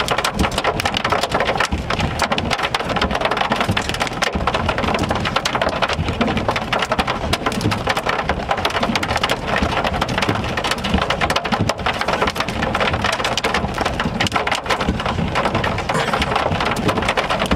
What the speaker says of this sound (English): the hail tonight has been a little bit bigger than what the radar has estimated